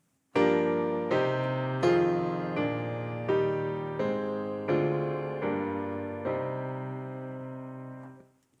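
A diatonic chord progression starting on the mediant, eight chords played one after another on a keyboard at an even, unhurried pace, each ringing out clearly, the last held and slowly decaying.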